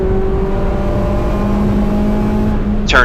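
A race car engine drones loud and steady on the throttle at GingerMan track, heard from inside the car as it accelerates, with a brief higher whine at the end.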